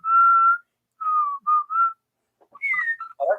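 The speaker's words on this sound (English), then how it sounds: "I like how Red's just here whistling." A person whistles a tune in several short melodic phrases with brief gaps, close and clear, with no talking over it.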